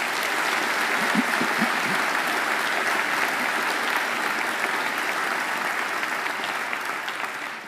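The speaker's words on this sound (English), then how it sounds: "I'm sure you'd like to give them a great round of applause too." A graduation ceremony audience at Macquarie University applauds alumni volunteers, a full, dense round of clapping from a large crowd that stays strong throughout and tapers slightly at the end.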